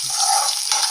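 Upma tempering crackles and sizzles in a hot pan, a steady bright frying hiss for a second with a brief stir-like scrape near the start, close and fairly loud with no voices.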